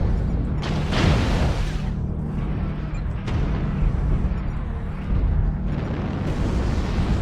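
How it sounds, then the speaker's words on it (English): Missile explosions in the mech combat game MechWarrior Online hit as loud, sustained booming blasts with rumbling low end that fill the whole stretch, dense and close, with no talk. "Warning, incoming missile."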